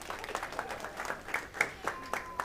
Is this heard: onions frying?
no